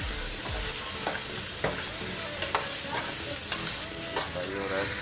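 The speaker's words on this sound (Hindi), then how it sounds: "फ्राई हो रहा है।" Chicken korma fries in a pan over high heat, a dense sizzle broken by repeated scraping and stirring clicks, with no voices.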